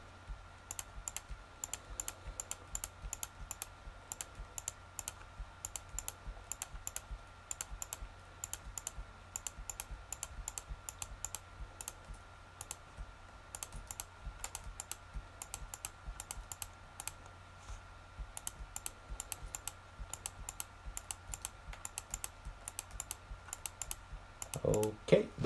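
Rapid keyboard typing and mouse clicks continue close by throughout while an editor works in software, in a steady stream of light taps with a louder burst at the end.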